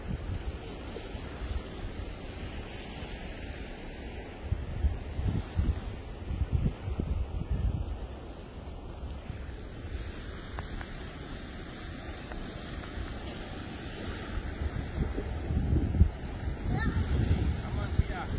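Ocean waves wash and break nearby on a beach at Esperance, Australia, under gusty wind noise, with a few surges of surf rising and falling.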